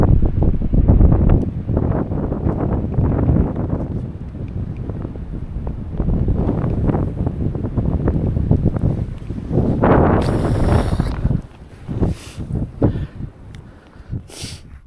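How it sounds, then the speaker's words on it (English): Cold wind gusts across the microphone during a winter Appalachian Trail climb up toward Hall Mountain Lean-To, a loud, steady rushing roar that swells and buffets throughout before easing near the end. "Ooh, that wind's kind of cold."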